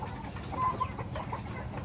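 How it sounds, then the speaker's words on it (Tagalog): Native chickens cluck and call softly over a steady rural background hum, the bird sounds fairly close but low and continuous with no talking. "Yan ay native chicken din si Mami Jo sa kabila"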